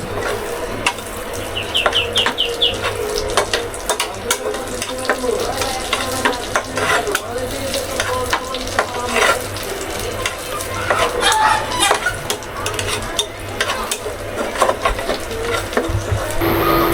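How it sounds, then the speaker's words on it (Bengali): Leafy greens stir-frying in oil with dried chilies give off a loud, close sizzle, overlaid with frequent scraping and clattering stirs throughout. "শাকটা ভাজি করা হয়ে গেছে, যেখানে শাকটা হয়ে গেছে ভাজি করা"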